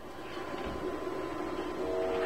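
A train rumbles steadily at a faint, distant level, with a low rolling noise and a sustained tonal hum that could be a horn building near the end. No voices are heard.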